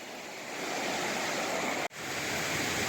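A river beside the abandoned Boston to Maine Railroad in Bethlehem, New Hampshire, rushing in a loud, continuous broadband roar that fills the scene, broken only by one split-second dropout partway through.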